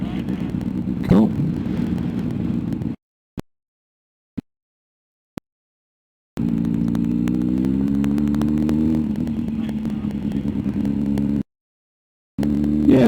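A motorcycle engine hums steadily in second gear while riding around a roundabout, its tone rising and settling, with the sound cutting out in several brief gaps.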